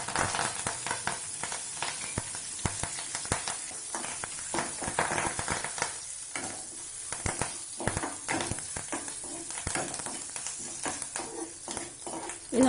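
Mustard seeds, urad dal, chana dal, curry leaves and asafoetida sizzling in hot oil for a Tamil tempering, a steady crackling spatter with sharp pops, close and fairly loud, with no talking.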